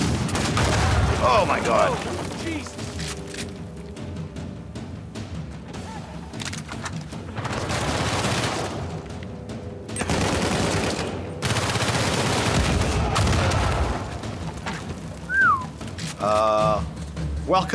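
Uncharted 4 video game gunfire erupts in rapid bursts and single loud shots, with booms and a few whistling tones between volleys, while a player exclaims in surprise.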